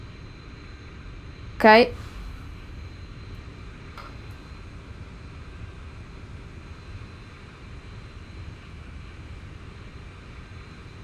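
A simulated airliner landing in X-Plane 11 on a London City to Dublin flight, heard as a steady low engine drone throughout, with a brief spoken word near the start.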